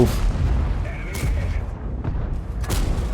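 Two heavy tank cannon shots from the Cobra tank in World of Tanks boom about a second and a half apart, each a sharp blast over a rumbling battlefield, with someone talking.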